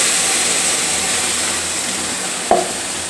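Amaranth greens going into a hot pan, a loud constant hissing sizzle throughout with one brief clatter of stirring near the end, no talking.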